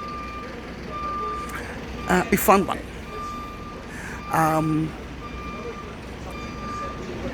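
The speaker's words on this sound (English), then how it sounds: "You can hear the bus station." Traffic at a bus station in Jerusalem, with a steady background hum and a reversing beep sounding in short bursts, while someone speaks over it.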